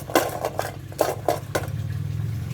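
Metal utensils clatter against a pan during stir-frying at a child's pretend shop, a run of sharp scraping knocks over a low steady hum, no speech.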